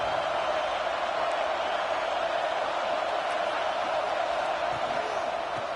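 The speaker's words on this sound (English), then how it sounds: "this home crowd is fired up and ready to make a difference today" A home crowd roars steadily at a college football game just after kickoff, a dense, continuous wash of stadium noise that holds at an even level throughout.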